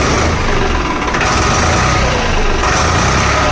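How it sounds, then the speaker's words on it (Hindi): A loud, close tractor engine roars steadily with a rough, throbbing rumble and a slight swell in pitch as it's throttled. "मैं थोड़ा इसका एक्सीलेटर लेके देखता हूँ"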